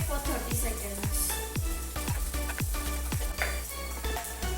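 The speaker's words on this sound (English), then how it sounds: "Now add in 1/4 cup of sliced onions and saute it for 30 seconds." Sliced onions sauté in a hot pan for vegetarian bao buns, with a steady sizzle and regular scraping strokes of a spatula about twice a second, close and clear.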